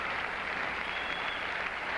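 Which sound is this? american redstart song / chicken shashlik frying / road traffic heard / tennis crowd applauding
tennis crowd applauding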